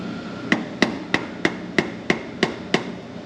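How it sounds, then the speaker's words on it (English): Eight sharp hammer blows on a Jeep JK Dana 44 axle shaft during an axle repair, struck at a steady rhythm about a third of a second apart, close and loud, with metallic ringing and no talk. "Grab a hammer and hit that again."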